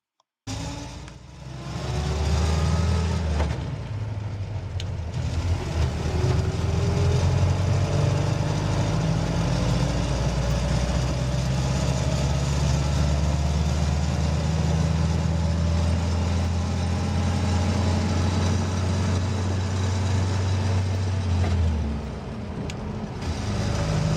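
A vehicle engine drones steadily in first gear for a long stretch, a continuous low rumble that holds at a constant level with no voices over it, heard outdoors at a cabin.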